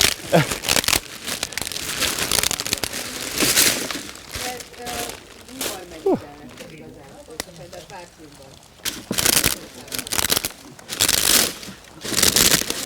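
Sharp crackling and crinkling bursts of brittle food snapping inside a rustling plastic bag, coming in irregular clusters, with quieter gaps and faint talk between.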